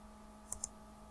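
A computer mouse clicks twice in quick succession, crisp and light, close but quiet against a faint steady electrical hum.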